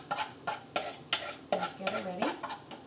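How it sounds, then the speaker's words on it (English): Sour cream sauce stirred in a pot as it comes to a boil for Hungarian Hortobágy crepes, with rhythmic scraping strokes and a soft sizzle close by, and a brief spoken remark. "you'd continually stir that because that's going to thicken"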